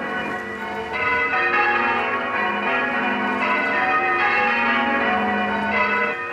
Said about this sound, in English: He ordered that all the church bells of England, which had been silent for 2 years, should ring out.